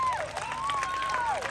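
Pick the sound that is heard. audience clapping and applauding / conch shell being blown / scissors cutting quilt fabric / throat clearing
audience clapping and applauding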